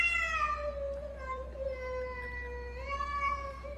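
Cats in a played video yowl in a long, drawn-out caterwaul, wavering in pitch and rising again near the end, over a steady low hum with no talking.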